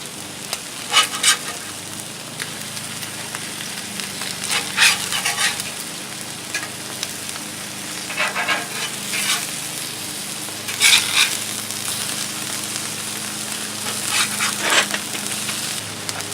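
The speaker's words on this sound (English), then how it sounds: "Alright, I'm gonna go ahead and flip them." Pork chops and zucchini sizzle steadily on a Blackstone griddle, a continuous close frying hiss with several sharper bursts of scraping and turning as the food is flipped.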